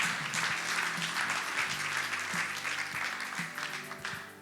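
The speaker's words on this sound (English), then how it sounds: "would you give them a nice warm round of applause as well" An audience at a tribute event claps warmly, a dense, sustained wash of applause from a sizable crowd that holds steady for several seconds, then begins to taper slightly.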